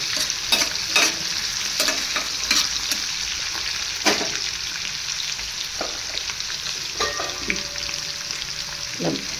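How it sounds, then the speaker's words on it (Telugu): Bitter gourd fries in a generous amount of oil while a spatula scrapes and stirs it, giving a steady close sizzle broken by repeated sharp clanks and scrapes against the pan. "బాగా వేపుకోవాలా ఎందుకంటే కాకరే కారం కదా కొంచెం ఆయిల్ ఎక్కువే కావాలా"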